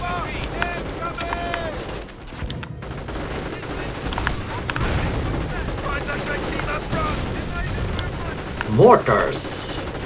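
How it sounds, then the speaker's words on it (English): Battle noise in the real-time strategy game Company of Heroes: Opposing Fronts, with mortar fire, explosions and gunfire rumbling steadily throughout, a louder blast near the end, and voices speaking over the fighting. "Mortars."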